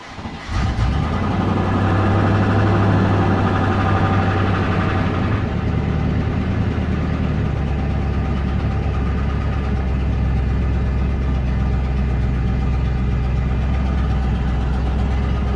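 A 1994 Range Rover running on LPG cranks and catches, then settles into a loud, steady low idle with a constant rumble that drops slightly in pitch partway through, close by, no speech.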